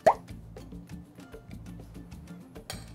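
A single soft plop as young coconut drops into a glass of halo-halo, close and brief, followed by quieter faint clinks and shuffling.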